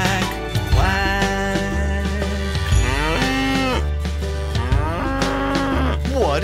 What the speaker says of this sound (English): It's a big cow. Moo, moo, moo.